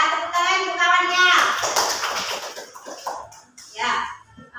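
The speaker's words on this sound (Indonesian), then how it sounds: "Ya, tepuk tangan untuk kawannya." A classroom of young children claps for a classmate in a short, noisy burst of applause, framed by a voice speaking before and after.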